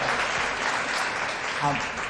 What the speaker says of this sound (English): let's give another round of applause for Hillary